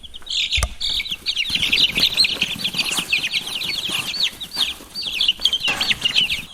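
Young chickens cluck and peep continuously in a busy flock, with rustling and occasional wing flaps close by and no talking.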